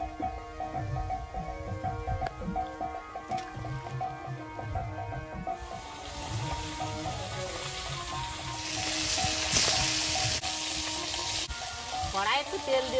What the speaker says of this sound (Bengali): মাছগুলো, মোটা মাছগুলো আগে ভেজে নিই।